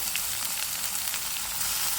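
Steady, crackling sizzle of fresh fenugreek leaves frying in a hot-oil tempering, close and continuous, with no voices.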